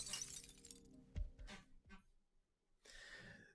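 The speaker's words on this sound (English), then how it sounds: "The boy smashed the beautiful crystal to pieces." A crystal smashes to pieces as a dramatic effect in the Arknights video game: a sharp crash, then scattered glassy tinkles and a final burst of shimmering debris, all quiet and with no voices.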